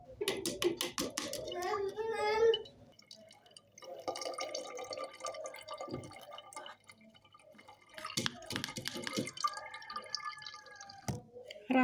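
Homemade citrus juice poured through a strainer, with close liquid dripping and splashing in bursts along with handling noises. Someone talks over parts of it.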